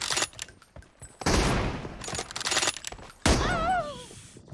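Gunfire in PUBG Mobile crackles in dense bursts of rapid shots, loud and close, with short pauses between volleys and a whistling warble near the end.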